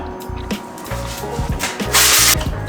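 Body filler on a homemade Formula One car is sanded by hand, close up. Short rasping strokes come in an uneven rhythm and grow louder and longer toward the end.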